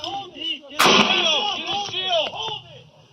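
A single loud, sharp gunshot bursts out during a police shootout in Sparks, heard close up on a bodycam amid tense shouting voices that continue around and after the blast.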